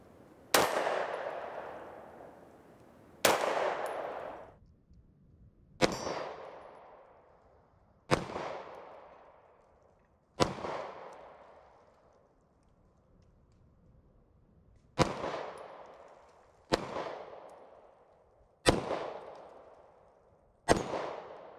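Kimber R7 Mako pistol firing Blazer ammunition: nine sharp, loud gunshots spaced irregularly a couple of seconds apart, each with a ringing decay, no talking.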